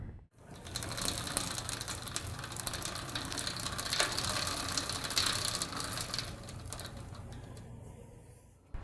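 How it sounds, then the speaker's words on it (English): An overtight chain on a single speed bicycle binds against the rear cog as the bike is pedaled, giving a steady, close ratcheting and grinding clatter that runs without pause for several seconds before stopping. "Listen to the sound of the chain as it binds against the rear cog."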